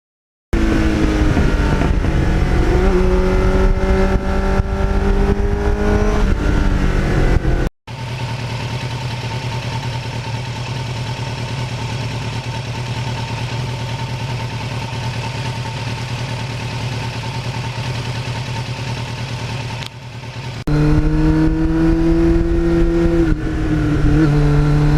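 A Kawasaki Ninja motorcycle with a Muzzy exhaust runs loudly and close by, its engine holding a steady drone with changes in pitch and short breaks between runs, with no talking.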